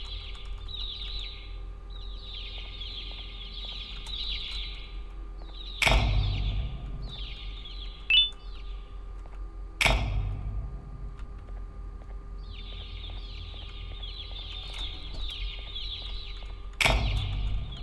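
Birds in the Garten of BanBan video game chirp in repeated short bursts over a low steady hum, broken by three sharp thuds; no one speaks.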